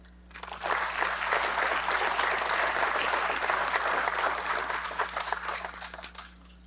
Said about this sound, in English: and we must applaud that.